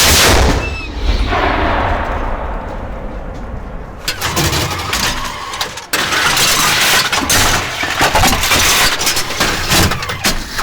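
A tank cannon fires in the field: heavy booming blasts and rumbling machinery, with a sharp loud crack near the middle followed by continuous tank engine roar and clatter.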